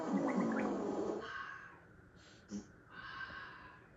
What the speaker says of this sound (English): Alexa, fart.